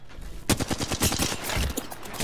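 Rapid automatic gunfire from Apex Legends breaks out after a brief quiet start and rattles in a dense, loud burst of closely packed shots until the end.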